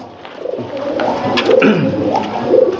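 Racing pigeons in their loft coo softly and repeatedly, several birds murmuring close by over a low ambient background.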